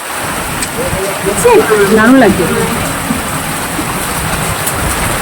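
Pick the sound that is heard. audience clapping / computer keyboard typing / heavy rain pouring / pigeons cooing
heavy rain pouring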